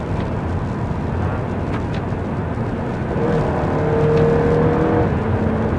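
Inside a Mitsubishi Galant on the road, a steady low rumble of road and engine noise, with the engine tone rising slightly as the car picks up speed partway through.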